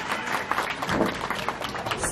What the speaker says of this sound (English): Certainly happy to see you applaud for his whistling.